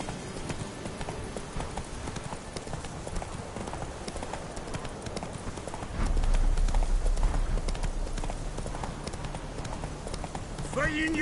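The horse Roach gallops in The Witcher 3 with rhythmic hoofbeats throughout, growing louder and heavier past the midpoint, under game background sound and with a voice speaking near the end.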